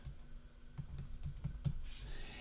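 Soft, close keystrokes on a computer keyboard, a short irregular run of about half a dozen clicks over a faint hum, quiet and alone.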